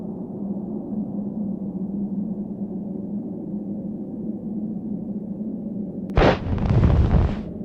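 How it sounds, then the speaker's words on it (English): An explosion in a snowy scene of the adventure game Secret Files: Tunguska, where a steady windy drone is broken by one sudden loud blast followed by a second of rumbling roar as a small avalanche slides down. "Wow, what an explosion! It appears that it even triggered a small avalanche"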